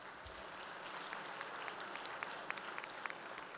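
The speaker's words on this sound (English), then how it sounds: "So let's give them a big round of applause." Audience applause rises at an American Farm Bureau Federation annual address, a sustained wash of clapping from a large hall crowd, fairly distant and soft, with a few sharper individual claps standing out.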